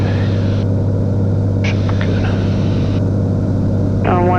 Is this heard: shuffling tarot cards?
no